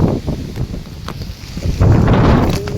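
Strong storm wind in the UK buffets the microphone with a loud, steady roar that swells near the end, heard outdoors with no speech.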